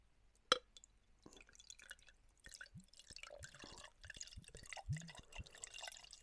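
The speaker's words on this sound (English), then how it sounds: "I've just frozen the glass, so let's have a pour" Homemade apple cider pours into a frozen glass in short trickling bursts and drips, faint and close, with a sharp clink at the start and a wet glug of liquid building toward the end.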